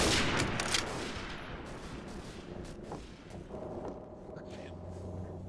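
Gunfire from Day of Defeat, a burst of rapid shots at the start that fades into scattered distant firing and battlefield noise, while a player talks.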